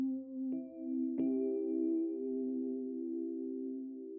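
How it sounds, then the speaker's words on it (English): A soloed Rhodes electric piano in a Soundtrap mix sounds a warm sustained note, with two soft attacks that ring out and decay slowly, clear and close with no talking. "What about a Rhodes piano?"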